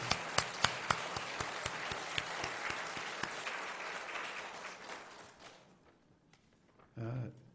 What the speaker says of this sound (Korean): 여러분 큰 감사의 박수